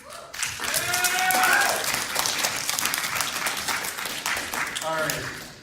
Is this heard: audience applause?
yes